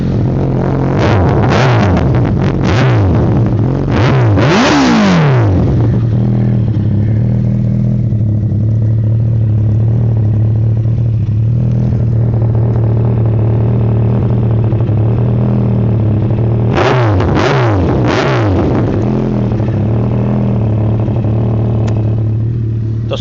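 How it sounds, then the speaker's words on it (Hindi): Kawasaki Ninja ZX14R, a 2013 model with a Two Brothers exhaust, idling loud and steady while sharp revs rise and fall in bursts at the start and again near the end. "तो अब आप लोगों को इसका स्टार्टिंग दिखा देता हूँ मोटरसाइकिल की।"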